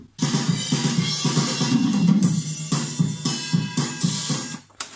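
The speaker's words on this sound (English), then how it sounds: "That's the sound of the Pressure Zone microphone that's attached to my wall behind the drum kit." A drum kit played in a room and captured by a Pressure Zone microphone mounted on the wall behind it: rhythmic snare and kick hits under washy, bright cymbals, dense and continuous with some roominess.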